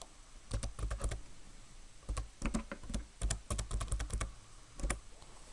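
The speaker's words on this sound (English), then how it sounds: "I'm going to key in account number." Computer keyboard typing as an account number is entered in accounting software, bursts of quick, close key clicks with short pauses between groups, fairly quiet and with no talking.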